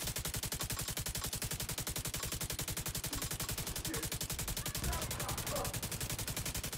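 Continuous rapid automatic gunfire in Tom Clancy's The Division 2, a steady, loud, close stream of evenly spaced shots with a muffled thump near the middle and faint talk underneath.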